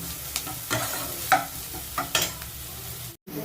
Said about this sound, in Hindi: कंटिन्यूसली इसको चलाना है, नहीं तो ये लग जाएगा पैन में